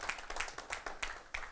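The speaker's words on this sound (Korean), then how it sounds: "박수로 가게 해주시기 바랍니다." Audience applause in a lecture hall during a university talk on filial piety and etiquette, heard as a short run of about half a dozen sharp, fairly close clap bursts.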